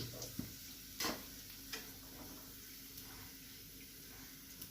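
Chicken frying in hot oil gives a faint, steady sizzle throughout, with a few louder clinks and stirring knocks early on and no talking.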